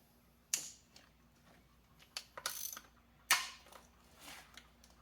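A T40 Torx driver on a ratchet loosens intake manifold bolts on an 08 Porsche Cayenne 4.8, with quiet close metallic clicks, sharp ratcheting bursts and clinks of fasteners, spaced irregularly across the clip.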